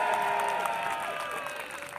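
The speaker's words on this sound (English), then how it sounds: "Give me a big cheer for the Trebuchet winding crew!" Castle crowd at a medieval trebuchet show cheering and clapping for the winding crew, a brief, fairly faint burst of mixed applause and voices heard at a distance.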